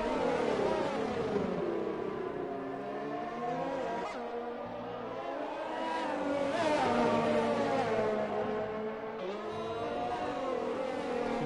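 A lone Ferrari race car on a flying lap around the Brazil circuit in a PS4 racing game, its engine roaring steadily and loud throughout, pitch rising and falling through repeated gear shifts and revs.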